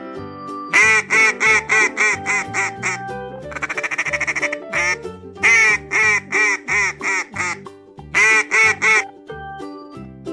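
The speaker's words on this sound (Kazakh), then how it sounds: "Үйрек." A domestic duck quacks loudly and close in quick rhythmic bursts, with a brief rapid chattering run in the middle and no talk.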